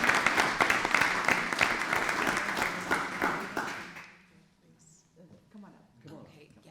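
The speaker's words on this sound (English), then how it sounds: "let's give a resounding applause for all of our award winners that are here and not here today." Audience applause for award winners at an Oklahoma Aeronautics Commission meeting, a dense, loud burst of clapping from a room of people lasting about four seconds before fading out, followed by faint talk and room noise.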